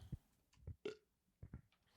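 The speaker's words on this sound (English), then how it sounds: "What? Burp." A single short burp rises out of faint background murmurs, brief and fairly close, with soft thumps and shuffling around it.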